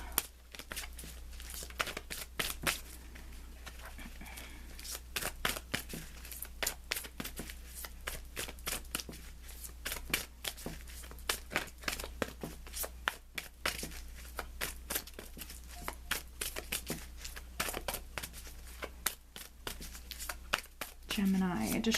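Tarot cards being shuffled and riffled during a weekly Gemini reading, a near, steady stream of quick papery flicks and snaps that runs the whole time with occasional crinkles.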